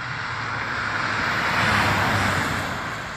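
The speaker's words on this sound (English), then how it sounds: "See how the Accord does in the high-speed corner." Honda Accord race car driving through a high-speed corner at Summit Point raceway, a sustained broadband engine and road roar that stays loud and steady, swelling a little mid-pass before easing off.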